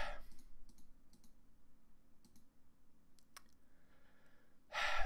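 Several soft computer mouse clicks spaced irregularly in a quiet room while browsing the Steam game library, with a sharp louder click midway and a breathy exhale or noise burst at the start and end.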